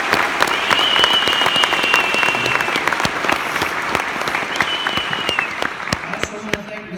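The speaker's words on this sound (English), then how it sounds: "let's give a round of applause for today's veterans" Sustained applause from a large crowd at a Veterans Day ceremony, steady clapping throughout with a faint high tone drifting over it at times.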